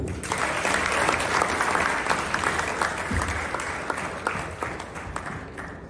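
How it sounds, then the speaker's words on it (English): Audience applause for the coordinators at a 2022 orientation event, a steady wash of many hands clapping that stays loud and dense throughout, with scattered sharper claps near the front. "So let's give a big applause for them too."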